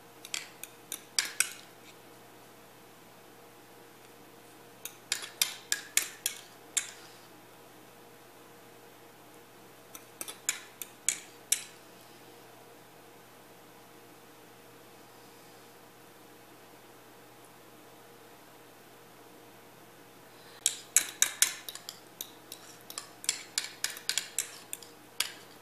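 A utensil clinking and scraping in a pan while tomato sauce is spread on a pan pizza: short clusters of sharp metallic ticks recur every few seconds against quiet background hiss.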